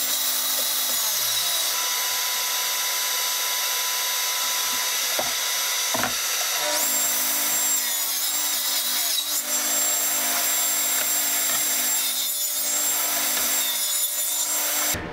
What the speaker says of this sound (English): I will then use this line to cut from, running it along the fence to produce parallel sides